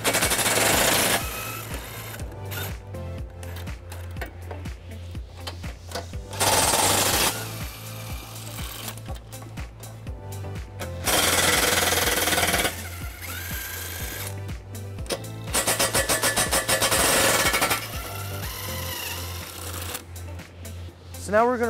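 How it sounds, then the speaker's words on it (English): An 18mm socket removing the four bumper beam nuts on a 2019 BMW X3: repeated loud bursts of rapid mechanical rattling, close and harsh, separated by lower steady stretches. "We are going to remove the four nuts that are holding it into place."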